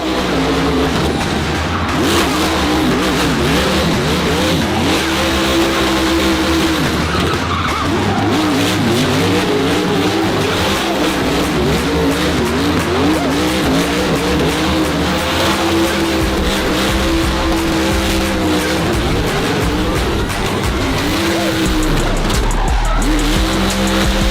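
A Ford Mustang drifts with loud, sustained tire squeal and a roaring engine, the screech rising and falling as it slides back and forth across a burnout area, close by, with no talking.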